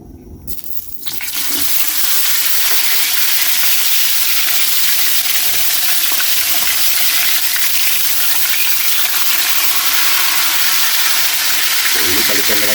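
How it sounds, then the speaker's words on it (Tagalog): Tilapia frying in hot oil, a loud, steady sizzle that bursts in after a brief clatter near the start and holds unbroken to the end, close to the listener. "Yan Kaylee, maglalagay na tayo dito mantika para ma-fried na natin yung tilapia"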